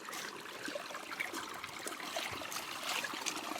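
Strong river water rushing and churning steadily at a gold-panning spot among rocks, a broad continuous wash of noise that stays fairly even and close throughout, with no voices.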